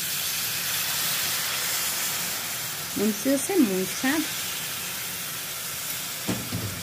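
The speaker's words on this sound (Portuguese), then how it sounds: "Como ela já tá aqui, ó, fritando, saindo gordura, eu vou colocar um pouquinho de água." Meat frying in its own fat in a pan with a little water added, giving a steady loud hissing sizzle throughout while someone talks briefly over it.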